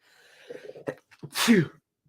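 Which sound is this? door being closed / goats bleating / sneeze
sneeze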